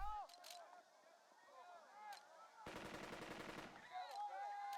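Rapid bursts of enemy machine gun fire in the WW2 video game Burden of Command, a sustained rattling volley of about a second amid quieter battle ambience and scattered chirping effects.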